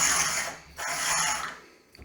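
A Rotatrim 36 inch paper cutter blade slides along its rail with a loud mechanical scraping, two drawn-out passes with a brief pause between and a faint click at the end.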